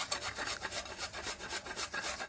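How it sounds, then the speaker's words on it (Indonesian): Carrots rubbed against a grater in quick, rhythmic rasping strokes, a steady scratchy scraping repeated about a dozen times, close and fairly loud with no talking. "Pertama-tama, saya akan parut wortelnya."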